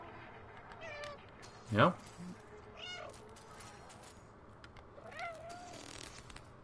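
A cat meowing in the video game Stray, one loud, close meow followed by a few softer, shorter mews spread out over low background noise, with a person briefly speaking.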